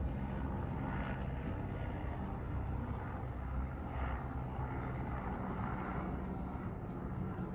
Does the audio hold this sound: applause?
no